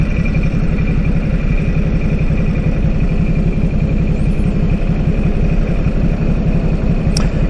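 A motorcycle engine idles at a stop on a road trip through Japan, a steady, loud low rumble with an even pulsing throb that holds throughout with no pauses.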